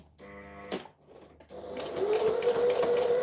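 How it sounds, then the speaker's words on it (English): A sewing machine top stitches a seam an eighth of an inch from the edge, running slowly over pins. It sounds as a close, loud, steady mechanical hum with a rising whine, preceded by a brief whirring burst and a short pause. "So I'm now top stitching an 1/8 of an inch from that seam, and I'm going very slowly because my pins are in there."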